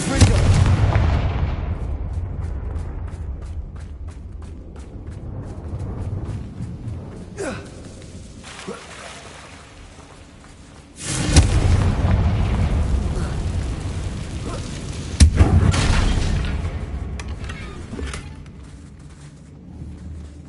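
Confringo and Bombarda spell blasts in the Hogwarts Legacy video game, several booming explosions near a damaged bridge, with heavy rumbling bursts around the middle and later parts and lingering low crackle between them.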